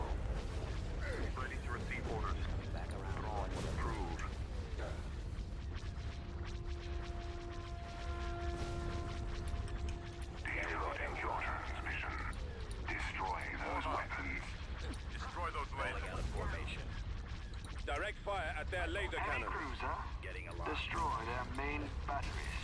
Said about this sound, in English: Ion cannon firing. Heavy guns.